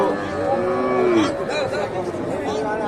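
A cow lets out a long, loud moo close by at a busy cattle market in Bogura, Bangladesh, with crowd chatter and voices in the background.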